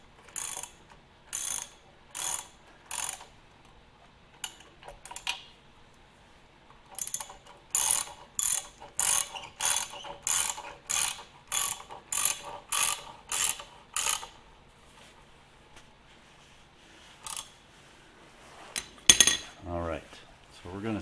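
A ratchet wrench clicks in quick bursts while tightening bolts on the front end of a 1948 Farmall Cub tractor, with pauses between runs and a scrape and clatter of metal near the end.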